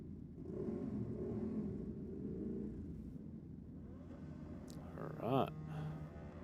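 A motorcycle at a drag strip during bike night, its engine idling with a low rumble under speech, then a sharp rising rev near the end.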